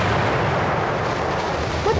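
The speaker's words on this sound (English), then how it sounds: "It sounded like an explosion." A distant, muffled explosion rumble in the Suffer the Night horror game, a low sustained boom filling the clip at strong level with no talk.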